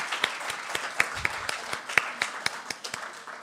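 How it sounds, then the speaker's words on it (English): Audience applause after a presentation at an ESG event, with sparse, distinct hand claps in an uneven rhythm, fairly soft and a little distant, as a small crowd claps for a few seconds. "another round of applause"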